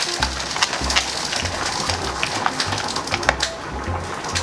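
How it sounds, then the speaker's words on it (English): Guanciale being stirred into carbonara sauce in a bowl, a soft continuous wet mixing and faint crackle with small scraping bursts, close and steady with no talking. "Mix it some more."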